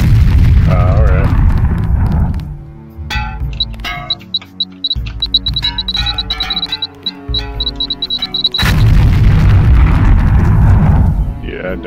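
A LAM mine detonates in the 2000 video game Deus Ex, a loud broadband explosion with a lingering rumble, followed by a game music and effects passage, then another heavy, sustained blast near the end.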